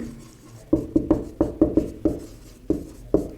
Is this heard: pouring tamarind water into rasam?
no